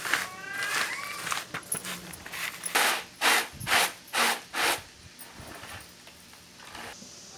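Peanuts crushed with a wooden pestle for a sweet peanut-flour preparation: a few soft scrapes, then a run of about five dull, even thuds close by, tapering into quieter grinding, with no voices.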